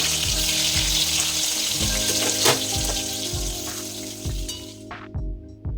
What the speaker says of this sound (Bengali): তাই বেগুন ভাজাগুলো বসিয়ে